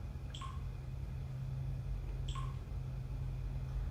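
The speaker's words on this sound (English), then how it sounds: "Almost sounds like digital drops of water" Two short synthetic water-drop-like blips from a new camera, about two seconds apart, bright and close, set over a steady low hum in an abandoned four-story building.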